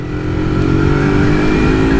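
A 400 cc class motorcycle engine, a Benelli Imperiale 400, Husqvarna Vitpilen 401 or Yamaha MT-03, revs up steadily while pulling out of a corner, a loud close droning roar that builds and holds, with no talking.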